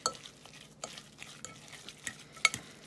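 Meatloaf mixture with breadcrumbs being stirred and mashed in a bowl, a close run of soft wet squelches and occasional sharp utensil clicks against the dish, irregular and fairly quiet.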